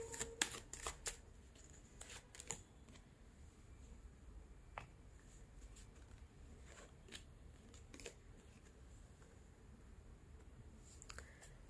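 Tarot cards being shuffled up close, a steady papery riffle with sharper flicks and taps, quiet and alone with no talk.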